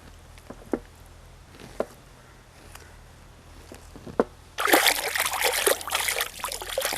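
A whole chicken is rinsed under running water. A few faint, scattered knocks come first, then a strong, close, continuous splash of tap water takes over for the last couple of seconds.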